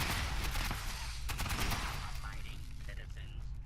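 Turret gunfire in Fallout rattles in rapid, dense bursts over steady background noise, loud at first and easing slightly toward the end.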